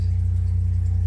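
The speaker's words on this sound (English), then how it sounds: "I am lucky enough to have a big natural gas generator. So that is currently running." A large natural gas standby generator runs steadily during an ice storm, a loud constant low hum with a strong deep tone that stays even and unbroken throughout, with no voices.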